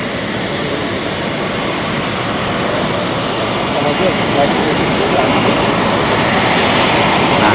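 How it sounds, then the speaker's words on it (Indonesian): A Saudi aircraft at Halim Perdanakusuma airport, its jet engines roaring loud and continuous throughout, with talk in the background beneath the steady engine noise. "Satu pesawat dari Arab Saudi sudah tiba di Bandara Halim Perdana Kusuma."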